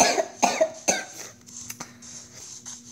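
A person coughs three times in quick, close bursts, followed by quieter faint sounds, during a Minecraft gaming session.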